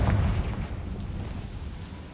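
A Confringo blasting spell explodes in the Hogwarts Legacy video game, a deep rumbling boom that rolls on and slowly fades over a couple of seconds.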